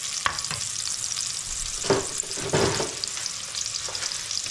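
Chopped onion sizzles in a hot pan of oil as the base for Filipino fried rice, a steady bright hiss with a few soft utensil knocks and stirring scrapes.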